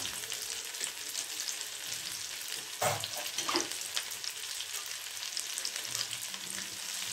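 Onion and green chilli frying in a pan for a Bengali small-fish curry, a steady close sizzle with a couple of brief stirring scrapes partway through, no talk.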